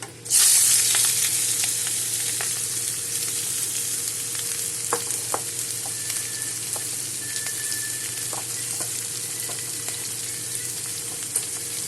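Hot oil with nigella seeds and salt for an ash gourd dish sizzles loudly, bursting into an intense hiss at the start before easing into a steady close frying sound with occasional small pops.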